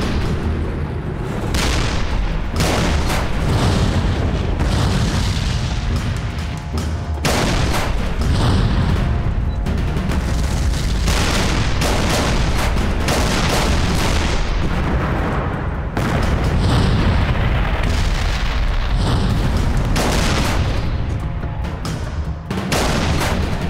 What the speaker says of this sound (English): A good shot as an immense artillery barrage approached us.